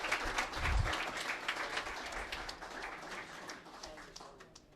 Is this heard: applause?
yes